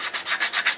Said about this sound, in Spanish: este Cristo ya vamos en el proceso final del lijado.